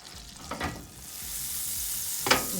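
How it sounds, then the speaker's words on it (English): Cornbread batter pours into a hot buttered skillet, sending up a couple of short hissing bursts over a low sizzle, heard up close with no talking. "we're going to take our cornbread batter and we're going to add it to our skillet, just like that"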